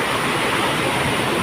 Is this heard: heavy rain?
yes